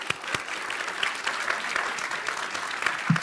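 A studio audience at a televised political debate on Bihar claps briskly to welcome two guests, a dense, even burst of applause lasting about three seconds.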